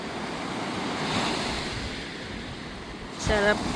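Ocean waves washing onto the shore at Santa Cruz, California, a steady broad surf roar with a swell building midway and a brief louder rush near the end, buffeted by some wind noise.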